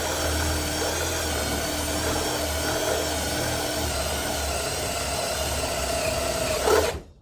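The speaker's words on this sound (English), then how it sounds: "The drill bit's already burnt up" A steady, continuous mechanical whine of a power drill with a burnt-up bit drilling metal runs for about seven seconds, then stops abruptly with a short clunk.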